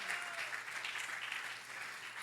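A church congregation applauds steadily, a soft, distant wash of clapping that continues evenly for the whole stretch with no voices over it.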